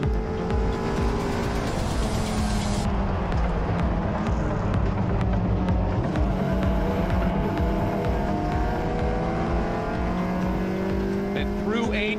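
Race cars lap a track at GRIDLIFE Midwest, engines droning and shifting pitch as they carry speed through a fast kink, with a constant loud roar and a commentator talking over it.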